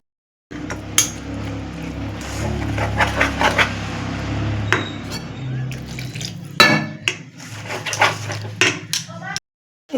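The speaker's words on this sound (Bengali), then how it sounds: "এর মধ্যে অল্প অল্প জল দিয়ে আমি এটাকে গুলিয়ে নেব।" A spoon clinks and scrapes around a bowl as flour batter for vegetable gola roti is mixed with small splashes of water, an uneven close clatter that stops briefly near the end.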